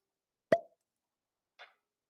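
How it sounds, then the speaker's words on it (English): A cork pulls free from a bottle of Maker's Mark Cask Strength bourbon with one crisp, close pop in near silence, followed by a faint tick a second later. "Love the cork pop."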